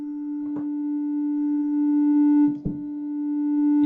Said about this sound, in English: You see that little sine wave become a square wave